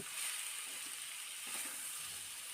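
Vegetables frying in a pan with ginger and green chili paste give a steady, soft sizzle and hiss with no voices.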